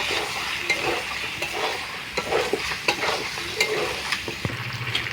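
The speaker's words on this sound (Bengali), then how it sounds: "দিয়ে মাংসটা কষাতে থাকবো এবং অল্প হালকা একটু জল দিয়ে মাংসটাকে কষাতে থাকবো।" Chicken fries in a pan with chili powder, Kashmiri chili powder and a little water while a utensil stirs it. A steady sizzle runs under repeated scraping and clattering strokes, close and without talk.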